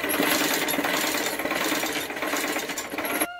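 Rapid, continuous mechanical chatter of a sewing machine stitching a suit, loud and close, running steadily before stopping abruptly at the end.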